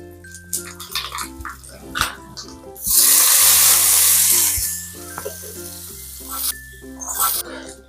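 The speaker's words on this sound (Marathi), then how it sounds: "तडका देण्यासाठी मी तेल गरम करून घेतलं त्याच्यामध्ये मोहरी टाकली कढीपत्ता टाकला" Mustard seeds, curry leaves and a pinch of asafoetida hit hot oil for a tadka, giving a sudden loud sizzle lasting about two seconds amid utensil clinks and kitchen clatter.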